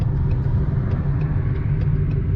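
A 2020 Ford Mustang with Texas Speed headers sits at a steady, loud exhaust rumble, a continuous deep drone without any clear revs.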